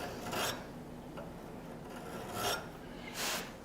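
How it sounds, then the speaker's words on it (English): A hand file rasps across a steel Bowie knife blade just behind the ricasso, held in a file guide, giving a few slow, separate grinding strokes close up with quiet pauses between them. "I'm just filing down a step"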